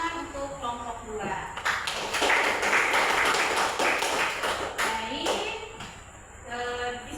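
Brief classroom clapping for a student group, a burst of quick hand claps in the middle, with a teacher talking before and after.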